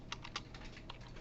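Quiet, fast clatter of keys being typed on a computer keyboard, a short run of light taps with a few sharper strokes, close and alone.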